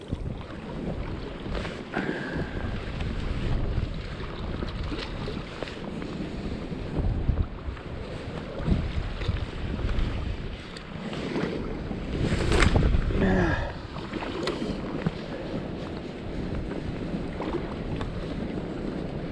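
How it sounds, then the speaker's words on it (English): Sea waves break and wash around an angler wading in the water off Als in late October, a rough, continuous surge of rushing water with heavy wind buffeting the microphone throughout and a stronger splash near the middle. "the waves are coming over my head from behind sometimes"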